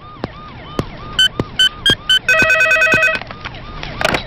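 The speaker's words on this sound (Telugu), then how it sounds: "మీకు ఫోన్." A telephone rings with repeated electronic beeping bursts, several short rings then a longer warbling one, loud and close over faint background noise.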